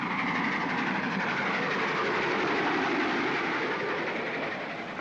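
A moving train rumbles steadily with a continuous rolling clatter of wheels on track, loud and even throughout.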